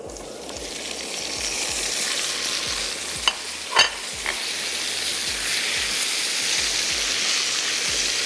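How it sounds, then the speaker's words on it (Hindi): Onions and tomatoes fry in a pan with a continuous close sizzle, stirred now and then, with a few sharper scraping clicks partway through. "यहाँ पर फ्राई कर लेते हैं प्याज और टमाटर"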